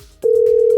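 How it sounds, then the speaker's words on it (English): A phone call rings out through the earpiece: a steady electronic ringback tone starts after a short quiet moment and holds unbroken at close range, with no talk over it. "It's ringing."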